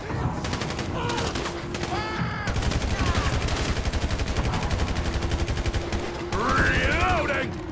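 Sustained automatic gunfire in GTA 5's zombie survival mod, a dense rapid rattle of shots running almost the whole time with loud bursts, while people talk over it.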